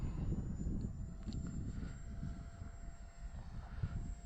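A Value Hobby Dolphin EDF RC trainer jet flies overhead with a steady whooshing ducted-fan roar and wind rumble, holding a continuous moderate level with no talk.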